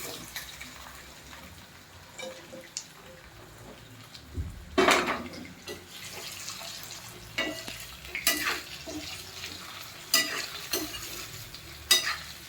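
Drumstick-leaf muthiya roasting in a pan, with a steady low sizzle and repeated loud scraping and clattering of a spatula stirring against the pan, the strokes getting sharper toward the end.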